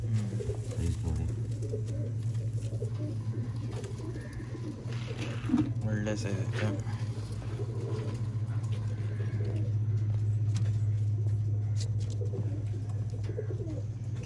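Old line pigeons for sale in Bangalore coo steadily throughout, a continuous low cooing from birds close by, while someone talks over them and traffic murmurs in the background.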